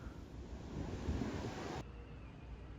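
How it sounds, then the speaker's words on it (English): Sea waves wash onto a beach at Tamsui near Taipei, a steady broad surf roar with wind buffeting the microphone, loudest midway before easing to a softer wash. "enjoying the sea breeze and the sounds of the waves and the activities on the beach"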